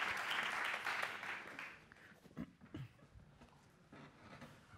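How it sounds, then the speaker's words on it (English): Audience at an MIT pitch competition gives a speaker a round of applause: dense clapping strongest at the start, thinning and fading after about two seconds into a few scattered claps and faint room noise. "Let's give a warm round of applause for Max."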